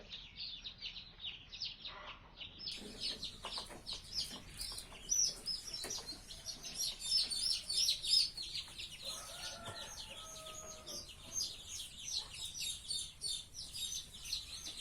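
Many high, shrill cheeps from a crowd of chicks and ducklings in a brooder, constant and overlapping, fairly close with a soft background hiss.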